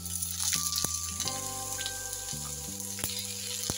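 Capsicum pieces fry in a pan after potatoes, a soft sizzle under occasional sharp spoon taps and clinks against the metal, with a tonal hum sustained in the background, close and moderately quiet.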